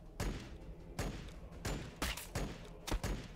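Gunfire in the video game Warhammer 40,000: Battlesector: a series of about six sharp, punchy shots at irregular intervals, moderately loud and with no speech.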